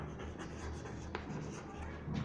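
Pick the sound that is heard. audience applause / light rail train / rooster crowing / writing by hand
writing by hand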